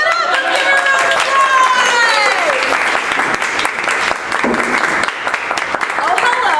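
Loud, close applause and clapping from a studio audience for a volunteer at a live show, a dense, sustained burst with overlapping vocal sounds.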